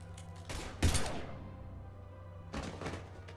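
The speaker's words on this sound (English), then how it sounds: "Now open fire!" Gunfire in Mass Effect 3 Legendary Edition: a couple of sharp, heavy shots, one stronger burst near the start and another a few seconds later, with quieter thuds between and no talk.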